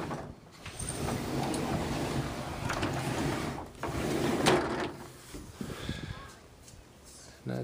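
A Retrax retractable tonneau cover sliding open along the bed rails of a Toyota Tundra pickup, a continuous rumbling slide with clicks and clunks at the latch, close up, with someone talking over it.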